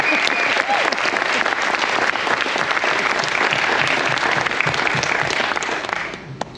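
A crowd applauds loudly and steadily with some cheering during a military appreciation event aboard the Carnival Glory cruise ship, and the clapping fades out near the end.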